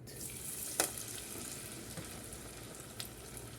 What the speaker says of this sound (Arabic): نعملها زي الطعميه ونحطها في الزيت